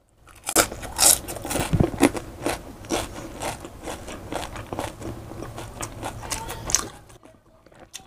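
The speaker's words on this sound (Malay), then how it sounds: "Sayur ni dia kena crunchy. Gigit tu punya krak, krak, krak." Close, repeated crunchy bites and chewing of a spicy burger with crisp vegetables, steady crackling crunches continuing for several seconds with no talking.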